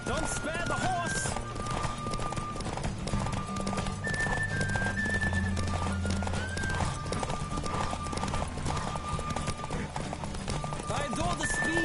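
A horse gallops in The Witcher video game, rapid rhythmic hoofbeats pounding steadily throughout with occasional whinnies and a rush of movement, while a voice speaks over it.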